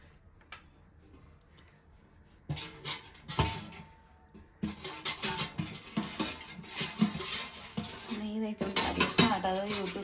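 Metal dishes and pots, including an idli steamer, clink and clatter repeatedly, sharp clanks coming in bursts close by with brief quiet stretches between.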